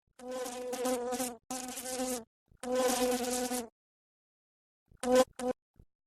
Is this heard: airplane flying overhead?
no